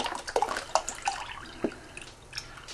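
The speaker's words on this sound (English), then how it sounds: "secret ingredient number one is a whole thing of beef broth" Beef broth poured from a container into a pot of chili colorado, a thin liquid splashing and trickling in uneven bursts, close and moderately loud with small drips near the end.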